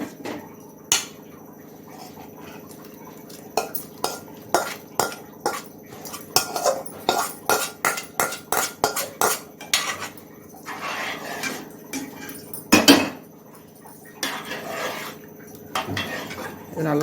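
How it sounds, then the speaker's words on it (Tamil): Sautéed okra is poured into dal in a pan and stirred, giving a long run of metallic clinks and scrapes of a utensil against the pan, coming in quick bursts and then sparser. "இப்போ நம்ம இதை இந்த பருப்பில் கொட்டிடலாம்."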